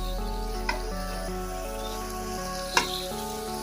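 Chicken karahi fries with onions in a steady, close sizzle that carries a constant hum. Two brief knocks of a spoon or ladle against the pot stand out.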